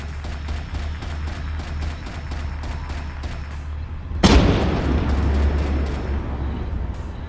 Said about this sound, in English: Is that a white phosphorus round?